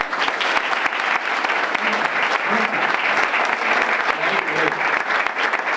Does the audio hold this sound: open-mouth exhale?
no